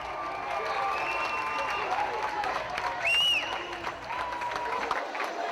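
UWM students packed into the Sandberg Flicks room and the Gas House cheer and applaud for the Badgers, a dense, steady crowd roar with clapping and a brief shrill whistle partway through.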